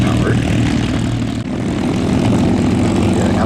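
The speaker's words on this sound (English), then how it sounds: "The Mustang is a little more of a bark. As our Mustangs taxi by the lead Mustang, Roosevelt" A Merlin-powered P-51 Mustang taxis past at an airshow, its propeller engine a loud, rough, barking drone that holds close and strong throughout, with a voice talking underneath.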